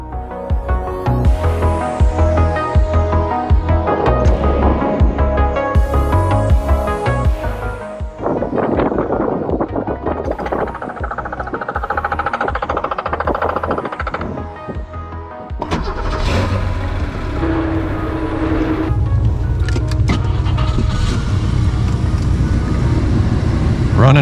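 A Jaguar XJ6 Series 1 with a triple-carburettor engine and a swapped manual gearbox runs steadily up close, with a deep continuous rumble that shifts in tone and level partway through, plus intermittent mechanical noise and some wind buffeting.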